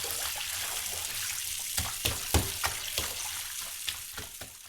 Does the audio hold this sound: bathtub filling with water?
yes